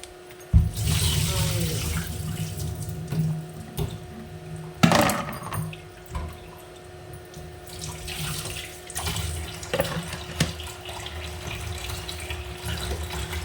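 Cauliflower is washed under running tap water in a sink, a steady splashing flow broken by louder gushes and clinks, with a voice speaking briefly.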